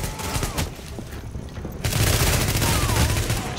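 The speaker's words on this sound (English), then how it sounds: "Man, that shotgun is really good." Shotgun fire in Tom Clancy's The Division on Xbox One, loud repeated blasts crowded together in a dense firefight, growing heavier and more continuous partway through.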